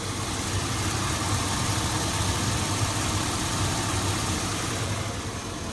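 A 2002 Chevy Avalanche with a 5.3L V8 and a ticking engine problem idles, heard up close at the muffler as a steady, unbroken low exhaust rumble with a constant hiss for the whole stretch and no talking.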